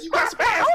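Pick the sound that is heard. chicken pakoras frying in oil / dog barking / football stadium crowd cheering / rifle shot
dog barking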